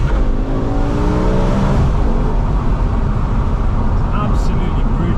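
BMW E60 M5 with its V10 engine accelerating hard, a loud continuous rising engine roar filling the whole stretch, with a quick shift or change in pitch partway through.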